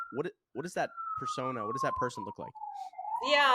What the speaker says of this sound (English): Sorry for the sirens here in New York City today.